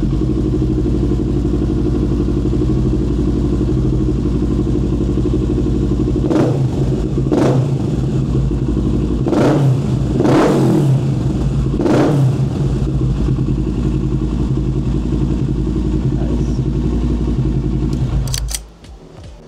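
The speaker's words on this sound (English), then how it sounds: "So this is the 2020 Kawasaki Ninja 650cc." A 2020 Kawasaki Ninja 650cc motorcycle idles loudly and steadily up close, broken by about five sharp throttle blips, then the engine cuts off near the end.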